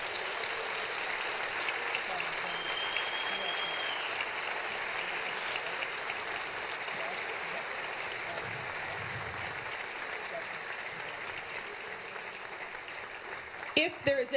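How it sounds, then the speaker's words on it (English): An audience at a high school senior award ceremony applauds in a steady, fairly faint wash of clapping that lasts throughout, with a brief louder burst of sound at the very end. "Please give them a round of applause."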